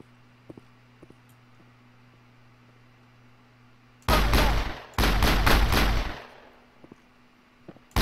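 Big gun fire in Mass Effect 1: two loud, close bursts of rapid heavy shots, each about a second long, cut in sharply over a quiet hum with faint clicks before and after.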